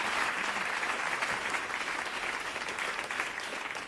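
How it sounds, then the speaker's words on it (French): Audience applause at a French music show, a steady wash of clapping from a crowd lasting a few seconds and tapering slightly at the end. "On applaudit quand même Nathalie d'avoir essayé."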